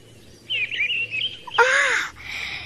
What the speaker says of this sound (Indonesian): mendengarkan merdunya kicau berbagai macam burung